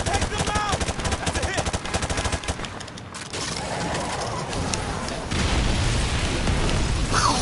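Dense Call of Duty 4 battle noise: rapid automatic gunfire crackling almost continuously, with heavier blasts from RPG launches and explosions mixed in, loud and chaotic throughout.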